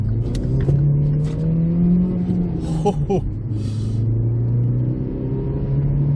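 A 2018 Hyundai Tucson family SUV with a 1.6 GDi engine accelerating hard from inside the cabin, a loud droning rise in engine pitch that briefly dips at a gear change and climbs again, with a voice talking over it.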